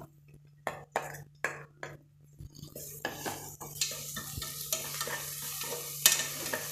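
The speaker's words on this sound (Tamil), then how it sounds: "இப்போ ஆனியன் பாருங்கள் நல்லா வந்து ஓரளவுக்கு கலர் சேஞ்ச் ஆகிட்டு இந்த டைமில் நம்ம இந்த இஞ்சி பூண்டு பேஸ்ட்டு போட்டுக்கலாம்" Onion frying with ginger garlic paste for vegetable biryani while a spoon stirs the pan, giving distinct scraping clinks of metal on metal, then a growing soft sizzle beneath repeated stirring knocks, close and fairly quiet.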